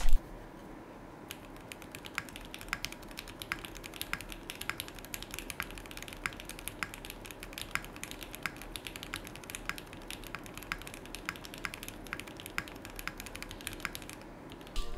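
Steady typing on a Baken Echo 60 mechanical keyboard with a DZ60 PCB and gummy o-ring mounting, close and clear with quick, even keystrokes and occasional louder thocks, no talking.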